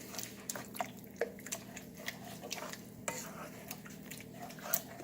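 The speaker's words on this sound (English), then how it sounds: "Stir it in." A spoon stirs a can's worth of added ingredient into thick, simmering chili in a pot, giving soft squishing with scattered light clinks and scrapes against the pot at a close, moderate level.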